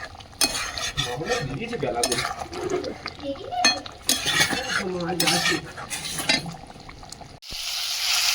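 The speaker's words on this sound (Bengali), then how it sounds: "সেই 2টো উচ্ছে আর আলু দিয়ে ভাজা করে নিচ্ছি" Bitter gourd and potato frying in a pan, with sizzling beneath clattering utensil stirring and scraping, while someone talks over it in bursts before a steadier hiss at the end.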